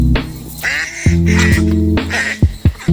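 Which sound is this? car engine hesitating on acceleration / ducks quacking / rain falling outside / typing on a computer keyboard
ducks quacking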